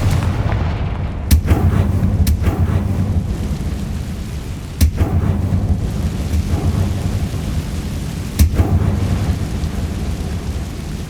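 A Confringo blasting curse in Hogwarts Legacy sets off loud, booming explosions a few seconds apart, each a sharp crack rolling into rumble, over a constant dense noisy roar like rain.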